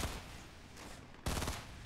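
Shotgun fire in Fortnite: two heavy booming blasts, one at the start and a louder one partway through, each trailing a short rumbling decay, fairly close with no talk over them.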